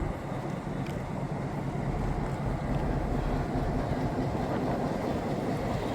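An Alco diesel locomotive rolls past with a steady rumbling drone of engine and wheels, fairly close and sustained throughout, with a couple of faint higher clanks and no talking.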